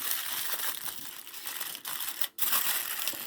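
Thick, heavy-duty aluminium foil crinkles and crunches steadily as it is folded into packets for baking, a close, continuous rustling with two brief pauses.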